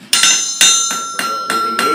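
A blacksmith hammers hot metal on an anvil: about six sharp, bright strikes at an uneven pace, each leaving a clear ringing tone, close and loud.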